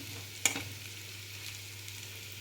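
Potatoes fry in hot oil with a quiet, steady sizzle, broken by a couple of sharp scraping clinks of a utensil stirring the pan.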